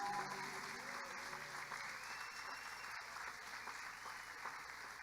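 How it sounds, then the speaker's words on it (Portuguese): A church congregation applauding during a Christian service, dense continuous clapping from many hands that fills the room at a steady level, with a faint voice underneath. "Aplauda Jesus."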